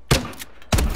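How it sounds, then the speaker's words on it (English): A grenade launcher firing in Call of Duty: Advanced Warfare, two sharp, close thumping shots about half a second apart, with a faint mechanical click between them. "It's a grenade launcher, of course."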